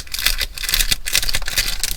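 A plastic or vellum bag crinkles and rustles as it is handled up close, a busy run of sharp, crackling bursts with no talk.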